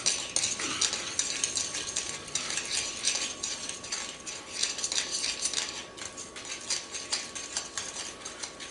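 Ciabatta starter dough stirred in a bowl as a second cup of flour is mixed in, a continuous close scraping and clinking of utensil against the bowl in quick uneven strokes, with no talking.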